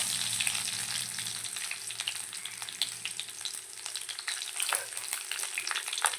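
Garlic frying in a pan for a homestyle egg curry, giving a steady, close hiss of sizzling oil with occasional crackles and light stirring throughout.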